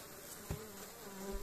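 Honeybees in a wintering hive give off a soft, continuous hum, faint and close, with a small bump partway through.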